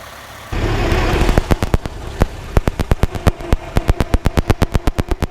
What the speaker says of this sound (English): That's the sound of the Model T's electrical system, sending charges to the spark plugs in aid of internal combustion.